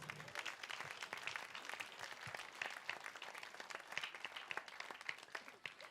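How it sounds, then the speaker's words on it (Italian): Audience at an outdoor fashion show applauding, a continuous patter of many hands clapping, faint and somewhat distant but steady across the whole stretch. "Un bel applauso per tutti loro."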